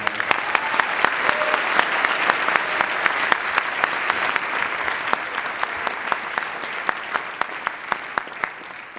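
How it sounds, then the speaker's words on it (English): Sustained audience applause for the music teachers at a school band concert, steady dense clapping from a large crowd filling the space, with a few louder individual claps standing out throughout. "Could you please give those music teachers a round of applause?"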